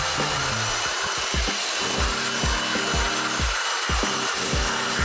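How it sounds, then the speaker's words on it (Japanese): A loud, steady rush of air from a blower drying water off a car, with rhythmic mechanical thumps and a low motor drone, close by and continuous. "これがブロワーで水飛ばしてると"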